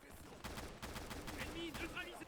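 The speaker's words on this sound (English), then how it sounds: "the Châtellerault is maneuverable enough that I can actually hip fire it and shoulder fire it to wipe out some of" A Châtellerault light machine gun fires in the Easy Red 2 video game, rattling off rapid bursts under faint game effects.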